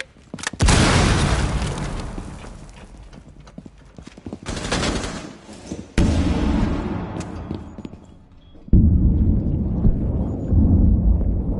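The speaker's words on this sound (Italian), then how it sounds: "Occhio all'esplosione!" Bursts of explosive booms from the Rainbow Six Siege video game, several loud, sharp blasts with sustained rumbling low-end tails, separated by brief drops, heard alone without talk.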